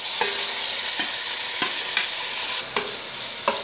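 Onions and tomato fry loudly in a pan with curry leaves, a constant close sizzle broken by several sharp spoon scrapes and clinks as they are stirred, with no talking.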